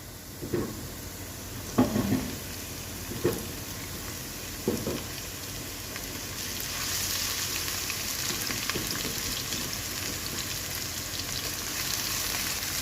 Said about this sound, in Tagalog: lagay na natin ang tomato paste and garlic paste.